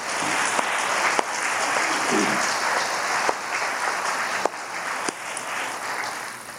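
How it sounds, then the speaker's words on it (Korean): A church congregation at a charismatic renewal lecture gives a warm round of thankful applause, a continuous wash of clapping with a few sharp knocks breaking through, heard alone without speech. "뜨거운 감사의 박수 한번 드립니다."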